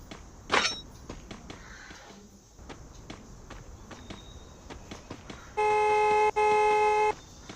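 In the Free Fire video game, a vehicle horn sounds two long steady blasts back to back, close and loud, after quieter footsteps and small game noises.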